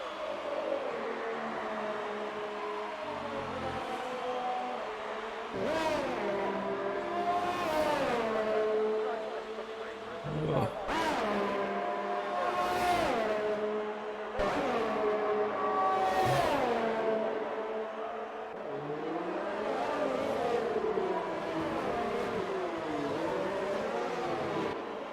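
Race cars on out laps at the Italian GP in a racing video game, with engine tones rising and falling as cars sweep past one after another in a steady, continuous drone.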